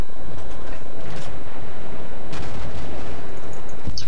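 Heavy naval guns fire in World of Warships, a couple of deep booming salvos rumbling over continuous low engine and sea noise, with a sharp crack near the end.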